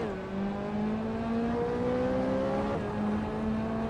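Engine whine of race cars pulling away at the start of a video game race, with a Ferrari 360 CS on pole. The steady revving tones climb in pitch through a gear change, with no voices.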